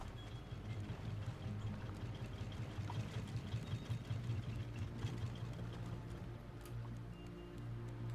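A boat motor on a raft in the survival game Raft runs steadily, a low continuous engine hum with a faint mechanical chatter, unchanging and moderately quiet throughout.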